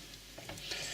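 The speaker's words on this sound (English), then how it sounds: "I'm going to give that a stir, and that will plump up" Pearl barley is stirred into a pot of Scotch broth, giving a faint, soft swishing and light scraping over a low simmering hiss, with no voices.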